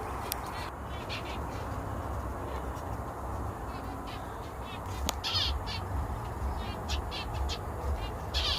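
Birds in a home aviary giving repeated harsh, cawing calls in short bursts, clustered toward the second half over a constant outdoor hum, fairly near and loud.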